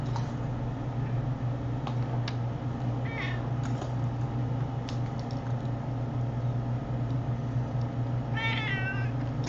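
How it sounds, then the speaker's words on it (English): A kitty meows a few times, close to the microphone, with a short burst of higher cries near the end over a steady hum of room noise. "you'll be able to hear the kitty"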